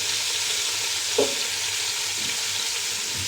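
Pieces of boiled meat sizzle in a pan, left to brown on one side, with a continuous even frying hiss and a single faint clink partway through.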